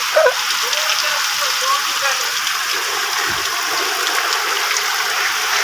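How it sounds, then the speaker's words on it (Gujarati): A torrential downpour over farmland where cotton is grown roars steadily and evenly throughout, loud and close, with a brief knock near the start. "ફૂલ વરસાદ ગાઈસ જો"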